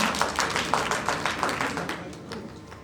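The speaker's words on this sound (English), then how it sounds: "A clap for him. Clap!" A school-event audience claps for a person being introduced, dense, overlapping claps that stay steady and close before tapering off, with no talk over them.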